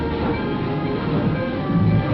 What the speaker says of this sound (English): The clipper pulls out of the yards on its way to the station.